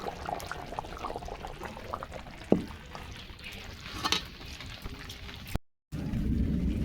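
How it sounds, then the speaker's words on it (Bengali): Rui fish curry gravy being poured from the pan, a soft liquid gurgle and bubbling with a sharp clink midway, ending in a brief drop to silence before a louder stretch. "এখন ঝোল ঢেলে নেবো"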